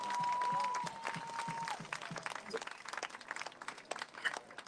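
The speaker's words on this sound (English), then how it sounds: "another round of applause" An audience at a DC civic event claps loudly at first, then the applause thins into scattered claps and cheers as a voice speaks over it.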